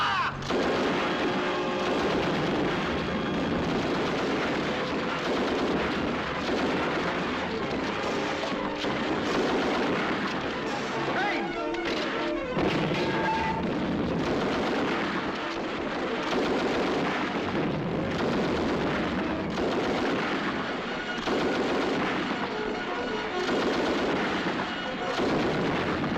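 Sustained artillery and small-arms gunfire in a 1944 war film battle scene, a continuous loud barrage of booms and crackling shots with no pause, dense throughout.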